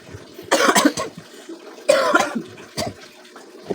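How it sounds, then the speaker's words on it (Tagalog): Two harsh bouts of coughing close by, each a cluster of rough bursts, followed by a single shorter cough, with faint running water in the background. "Yung ubo ko ayaw malis."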